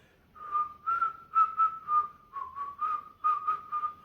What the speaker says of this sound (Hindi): उस गाने को पूरा का पूरा सीटी में गा दिया